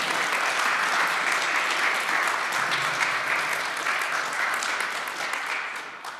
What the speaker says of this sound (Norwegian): som da ikke fikk noe applaus, sånn at det må de få nå